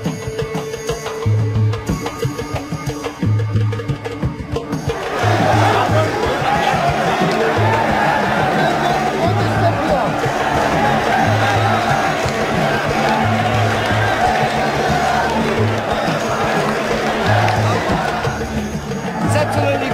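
Busy street in a crowded Himalayan town, a steady wash of crowd chatter and babble building up and holding at a loud level, with a rhythmic low thumping beat running underneath.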